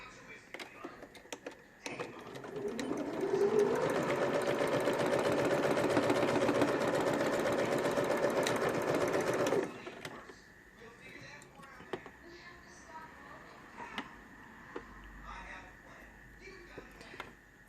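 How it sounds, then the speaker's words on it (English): A sewing machine bastes card slots in place, running as a steady whirring burst of stitching for about eight seconds before stopping, close and clear with faint handling noises after. "we're going to baste 1/8 of an inch down the sides to hold those card slots in place"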